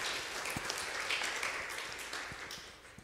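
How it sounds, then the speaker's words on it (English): A church congregation at a Sunday service applauds steadily after a prayer, a broad, even wash of many hands clapping for about three seconds, moderately loud and fading slightly toward the end. "We can applaud a great prayer."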